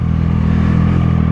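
A Triumph 660 motorcycle under way, its engine a loud, steady, close mid-pitched drone with a rapid pulsing rumble, heard alone without speech.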